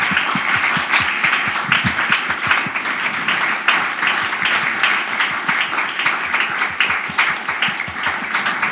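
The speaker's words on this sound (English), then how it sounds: "So can we give a final round of applause to our wonderful panelists?" An audience at a forum applauds its panelists: loud, dense clapping with crisp individual claps standing out, sustained evenly from start to finish without talk.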